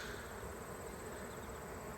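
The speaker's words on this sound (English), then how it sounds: "if you want to be afraid of bees, this is what the front of the hive looks like at this moment" Bees swarm and buzz at the front of a beehive on a small farm, a dense, steady, continuous drone that fills the space without pause or any talking.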